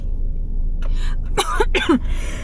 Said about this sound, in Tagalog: Ba't inuubo ako?